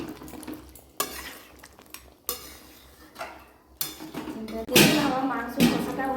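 A utensil stirs and scrapes meat in a pan as it cooks down with a little water: sharp metallic knocks and clanks come every second or so over a soft sizzling background.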